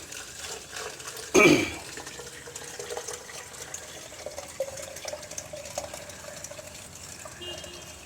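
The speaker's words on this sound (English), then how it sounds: "I'll keep it on one side so I can pour water." Ordinary tap water is poured into a container for a raintree seedling setup, opening with a brief loud splash and then settling into a steady, soft trickle and gurgle.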